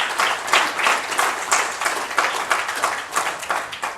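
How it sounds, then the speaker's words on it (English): Conference audience applauding in a hall, a steady stream of many hands clapping at moderate volume with rhythmic surges, no speech over it. "please give them a round of applause"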